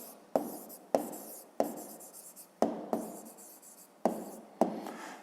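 Pen or chalk writing out a maths answer: a series of about seven sharp taps and short scratchy strokes at irregular intervals, close and quiet, with no talk.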